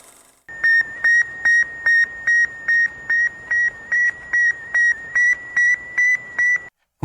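Sputnik satellite radio signal: a steady series of about thirteen evenly spaced, high electronic beeps, clear and alone against a faint hiss.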